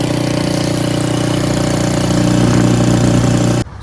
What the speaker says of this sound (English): we fixed the carburetor, cleaned it, and now it starts